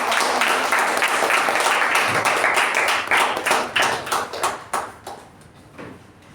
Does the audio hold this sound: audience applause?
yes